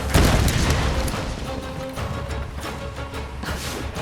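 Shotgun blasts in a cover-based shooter video game, several heavy booming shots with rumbling tails spaced irregularly over a busy mix of game effects.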